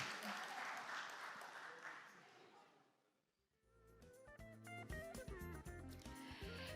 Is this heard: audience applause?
yes